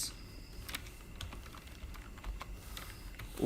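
Quiet keystrokes on a computer keyboard while C++ code for a banking record program is entered, scattered irregular clicks against a low steady background hum, no voices.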